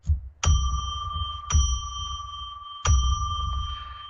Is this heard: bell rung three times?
yes